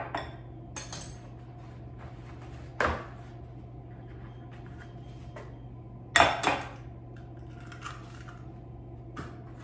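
Two eggs being cracked into mashed banana in a bowl for paleo pancakes, a few brief clinks and taps against the dish over a low steady kitchen hum, quiet and without talk.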